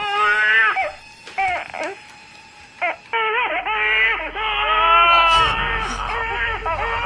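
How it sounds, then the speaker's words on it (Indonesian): An infant cries loudly through a baby monitor in a home, with repeated wavering wails and short breaks between sobs, close and insistent, and a faint electronic hum underneath from the monitor. "tiba-tiba mendengar tangisan anaknya dari alat perekam orok"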